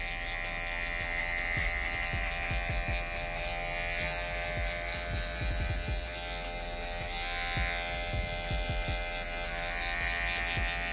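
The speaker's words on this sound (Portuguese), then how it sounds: "Eu vou vir com a máquina de acabamento, ó, ao contrário. E vou limpando toda essa lateral do cabelo dele" Electric hair finishing trimmer buzzing steadily while trimming the side of a person's afro hair during a low fade haircut, a close, continuous high-pitched whine with faint clicks of blade contact throughout, no talking.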